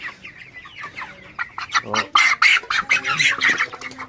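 Broiler chickens cluck and squawk close by, starting with soft scattered calls and building into a dense, loud run of squawks.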